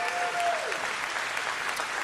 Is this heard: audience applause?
yes